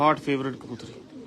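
A breeder's favourite female pigeon gives a brief, close, throaty coo that rolls through a few low pulses and fades within about a second.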